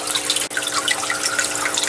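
Water free-falling and splashing through a DIY whirlpool drain into an aquaponic tank, a steady close trickling and bubbling with dense droplet patter and no voices.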